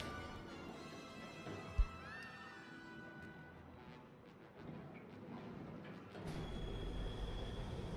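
A Runaway Mine Train roller coaster in Planet Coaster rolls along its track, a faint rumbling ride with squealing wheel tones, a brief clack, then a louder rush of rolling noise toward the end.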